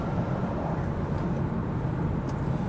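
Wind rushing through a not fully closed window of a moving BMW E90, a steady low broadband roar filling the cabin without pause and with no talk.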